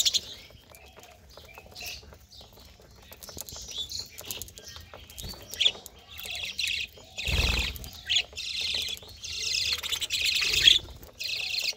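Many budgerigars in a colony aviary chirp and chatter in quick, overlapping bursts, with wing flutters and scratchy rustling scattered throughout.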